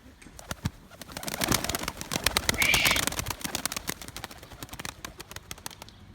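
A flurry of wing flaps from pigeons taking off, dense clattering beats swelling in the middle, with soft cooing and birdcalls around it.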